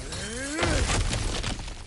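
Something smashes and shatters with a loud crash of breaking debris in God of War Ragnarok, following a rising whistling tone, with scattered fragments clattering as it fades.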